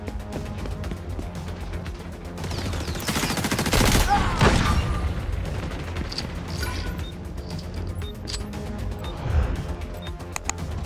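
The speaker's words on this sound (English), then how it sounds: "Flashbang out!" A flashbang grenade goes off in the XDefiant shooter game: one loud burst among dense gunfire, followed by ringing, chaotic combat noise and scattered shots.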